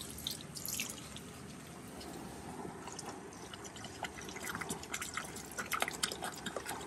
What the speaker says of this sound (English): We're gonna use about half of this and dump it right in the water.